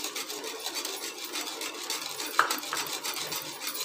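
Milk powder being stirred into milk in a pan for kalakand, a steady close scraping and clinking of a spoon against metal with a brief sharper knock partway through.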